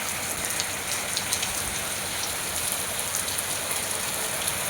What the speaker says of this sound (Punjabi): ਦੇਖੋ ਦੋਸਤੋ ਕਿੰਨਾ ਤੇਜ਼ ਮੀਂਹ ਪੈ ਰਿਹਾ